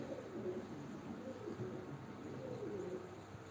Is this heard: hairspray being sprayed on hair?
no